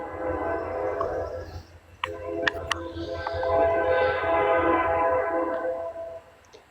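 A train rumbles past close by with a sustained tonal drone and sharp clicking of wheels on the rails, swelling midway and continuing to the end.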